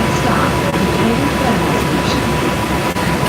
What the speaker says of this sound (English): I can't believe I'm showing you guys all just a train ride in the snow.